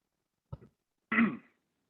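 A short throaty sound comes first, then one harsher, louder cough half a second later during an online board meeting, close and isolated against silence.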